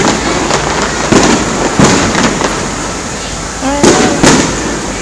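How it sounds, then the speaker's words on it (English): Fireworks burst at a downtown Indianapolis 4th of July show, loud sharp cracks and booms recurring irregularly over a constant crowd roar, with a whistle rising near the end and people talking nearby. "How long does the fireworks last, I wonder?"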